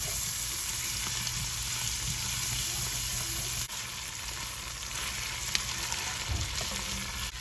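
Chopped vegetables and sausage sweat in a pot for butter beans, giving a steady, moderately loud frying sizzle that runs unbroken throughout, with a few faint stirring scrapes and no talking.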